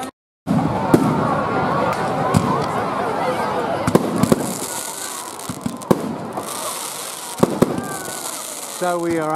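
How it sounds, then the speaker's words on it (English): New Year's Eve fireworks burst over Voyager Memorial Park in Huskisson, NSW, heard from close by as loud, continuous crackling and repeated sharp bangs. Someone talks over them. "So we are underway with the Huskisson New Year's Eve fireworks"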